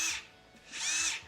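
Power drill whirring in two short bursts separated by a brief pause, close and fairly quiet, with no talking.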